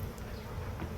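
Bee tangled in a person's hair buzzing close by, a continuous faint drone lasting about a second, alone without talk.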